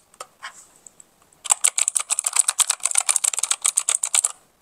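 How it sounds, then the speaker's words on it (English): Fast, steady typing on a stock 60% Kmart mechanical keyboard, a dense run of close, bright clacks after a few sparse opening keystrokes, with no talking. "today, we are modding this keyboard to make it sound infinitely better than stock"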